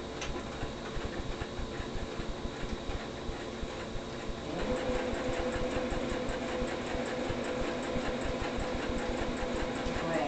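A sewing machine runs a zigzag stitch on scrap fabric for a simple T-shirt dress, a steady mechanical whirr that picks up and grows slightly louder midway, continuing alone without talk.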